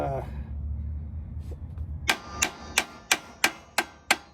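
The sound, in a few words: hammer hitting brake drum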